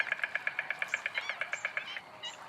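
Flamingos calling in a fast, even series of nasal honks, roughly fifteen in two seconds, then a few looser squawks, fairly close and clear with no voices.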